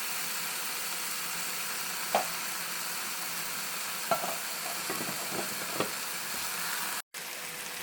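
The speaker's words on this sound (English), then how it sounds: "Now we are going to mix it all together." Seafood paella ingredients being stirred and mixed in a sizzling pan, a steady frying hiss with a few soft scraping knocks of the utensil, close and alone.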